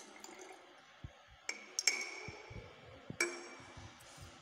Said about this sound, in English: So I will pour it into the flask.